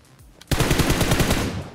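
Rapid automatic gunfire in the video game PUBG Mobile, a loud sustained burst of evenly spaced shots starting abruptly after a brief quiet moment, heard alone.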